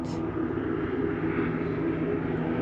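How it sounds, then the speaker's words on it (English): A small powerboat or jet ski on the Colorado River drones steadily from a distance, a continuous engine hum with a faint higher whine, alone without talk. "that's the first powerboat of any kind, or jet ski, whatever it is"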